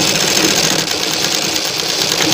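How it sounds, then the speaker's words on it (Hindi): Sewing machine running a return line of stitching back over a seam on fabric for a frilled sleeve design, a steady close whirring drone that holds without a break throughout. "इस तरह से हम इस पे एक सिलाई लौट के और लगा लेंगे"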